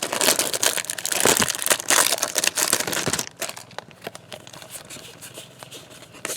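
Crinkly plastic foil wrapper of a Transformers TCG Titan Masters Attack booster pack being torn open and crumpled, loud close rustling bursts for about three seconds, then quieter intermittent crinkles.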